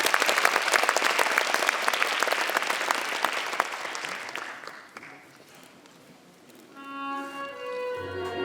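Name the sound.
audience applause at a graduation ceremony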